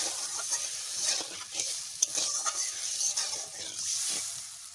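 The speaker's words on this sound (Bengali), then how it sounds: "হালকা করে অল্প একটু জল দেবো।" A little water goes into fried spice masala for a fish kofta curry and it sizzles steadily up close, with repeated stirring scrapes and a sharp clink in the middle.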